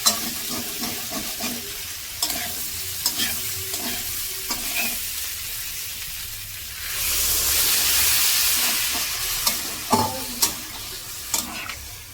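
Poppy seed paste frying in a pan for a drumstick-stalk posto dish: steady sizzle with repeated stirring scrapes, then a louder hissing burst as water is poured in, the stirring clinks returning afterward.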